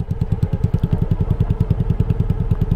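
Motorcycle engine idling at a beach entrance, a close, steady low putter of regular firing pulses with no talk over it.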